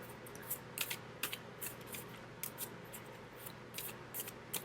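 Oracle cards shuffled by hand for a love reading, giving a run of soft papery riffles and flicks in irregular bursts over a quiet room background, close and faint with no talking.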